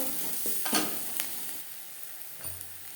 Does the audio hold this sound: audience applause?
no